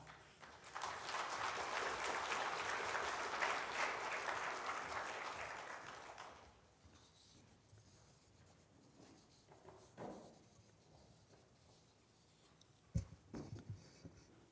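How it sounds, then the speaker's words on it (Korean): Church congregation applauds to welcome the pastor to the pulpit at a Sunday evening service, a sustained round of clapping that fades out after about six seconds, followed by quiet room sound and a few soft knocks. "나오실 때 박수로 환영해 주시기 바랍니다"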